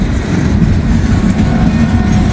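A Norfolk Southern intermodal freight train rolls past close by on a curve, a steady loud rumble of wheels and railcars with clickety-clack running throughout.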